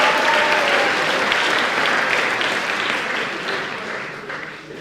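A studio audience at a morning meeting with a Wall Street Journal sports columnist breaks into dense, sustained applause that starts full and gradually thins and fades toward the end.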